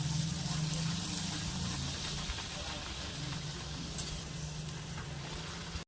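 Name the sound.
luchi (puffed flatbread) frying in hot oil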